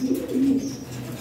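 Pigeons kept by a seller coo in low, rolling calls, a couple of soft throaty phrases close by with a faint hiss of background noise.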